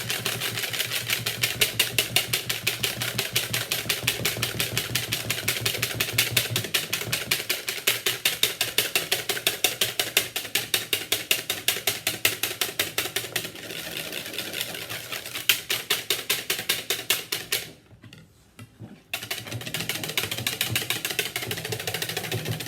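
An electric whisk beats whipped cream for a Swiss roll filling, a close, rapid, steady rattling rhythm that runs on and on, broken by one brief pause before resuming.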